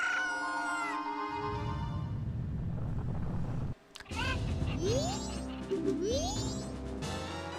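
Cucco chickens in the Majora's Mask video game let out a run of loud, harmonic squawks and crowing calls with rising chirps, over a steady game background, briefly cut off midway.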